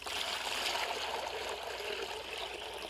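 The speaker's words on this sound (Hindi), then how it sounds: "ये सीविड फर्टिलाइज़र है जो कि हम पानी में घोल रहे हैं।" Water swirls and trickles as seaweed fertilizer is stirred and dissolved for a wheat-sowing field mix, a steady close gurgling wash with no voices over it.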